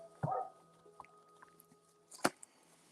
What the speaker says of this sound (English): dog's upset about that too.